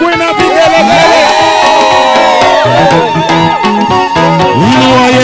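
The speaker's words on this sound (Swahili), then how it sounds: "Wapi shangwe na vigelegele?" A church congregation at a Sunday service cheers loudly, with shouting voices and high warbling ululation rising over dense crowd noise and music throughout.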